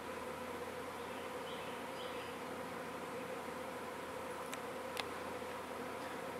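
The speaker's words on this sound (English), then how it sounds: "It's a lot of bees." A swarm of honeybees gathers at a swarm trap on a deck, a steady dense buzzing hum that fills the whole stretch, close and even, with a faint click near the end.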